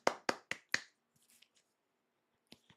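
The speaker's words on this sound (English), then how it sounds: "I am applauding myself." A person claps for herself: four sharp, quick claps close to the microphone, then a few faint taps and two more soft hits after a pause, in an otherwise quiet room.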